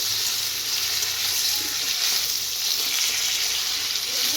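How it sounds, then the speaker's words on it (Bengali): Potato and green jackfruit pieces sizzle in hot oil in a kadai, a dense, even crackle that runs steadily throughout with no voices. "ভালোভাবে এগুলো ভাজা হয়ে গেল।"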